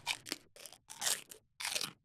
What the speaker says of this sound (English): That crunching sound is everywhere.